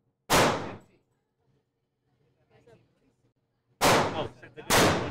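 Three loud, close gunshots at a shooting range: one single crack, then after a pause two more in quick succession, with faint talk in the quiet gap between.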